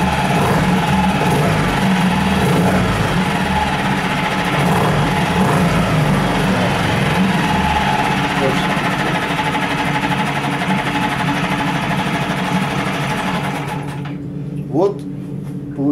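A CG Marine four-stroke 6hp outboard motor runs on its first start, a steady, loud, close drone held for about fourteen seconds before it cuts off abruptly, leaving a faint knock and near silence.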